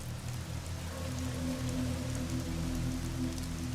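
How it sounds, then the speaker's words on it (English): Steady rain falls on a surface in a quiet, continuous wash of patter, even and unbroken throughout, with no voices. "so it's raining"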